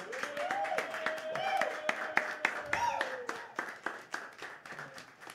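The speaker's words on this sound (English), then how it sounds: "Could you have another round of applause, people?" Big band show audience gives a round of applause, rhythmic clapping fairly faint and distant, with a sustained tonal voice or instrument line sliding through the first half.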